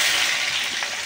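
Onions go into hot oil in a pan for a home-made mutton curry, giving a loud, close, steady hiss of frying that fills the short moment without any talk.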